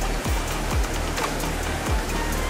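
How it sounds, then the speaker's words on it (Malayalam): The Aruvippuram river in Kerala flows nearby with a continuous rushing wash of water, joined by low rumbling gusts. "ഇതാണ് അരുവിപ്പുറം ആറ്."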